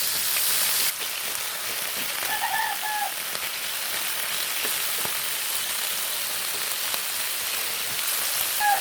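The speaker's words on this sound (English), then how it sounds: "Sear the chicken in both sides." Chicken sears in a hot pan, giving a steady bright sizzling crackle that holds at a constant level throughout, with a couple of faint tonal beeps in the background.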